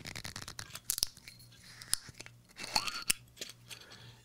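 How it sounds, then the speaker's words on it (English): A sake bottle is opened, with scattered crisp clicks, crinkles and a few sharper snaps close by, faint and irregular with quiet gaps between. "I'm going to open mine up"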